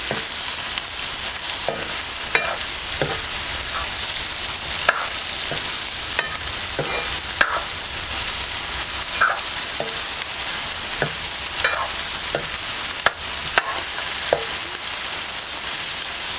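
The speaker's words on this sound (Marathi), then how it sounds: "आपण ह्यामध्ये दोडका घालूया थोडंसं आपण दोडका आहे ना परतून घेऊया तेलामध्ये" Ridge gourd stir-fried in hot oil gives a continuous close sizzle, broken by scattered spatula scrapes and light clicks against the pan, with no voices.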